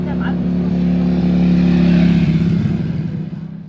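Cars and motorbikes roll slowly along a street in Shunde, Guangdong, a steady low engine rumble that swells as a vehicle passes close by, then fades away.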